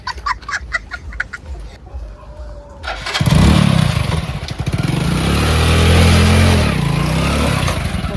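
A motorcycle engine kicks into life partway through, after some clucking from nearby fowl, then runs loud and close with a rough, steady rumble that swells slightly as it revs.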